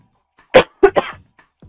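Three harsh coughs, close and loud: one, then a pause, then two in quick succession, with quiet around them.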